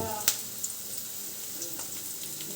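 Onions sauté in a pan with a soft, even sizzle close by, broken by a couple of brief clinks.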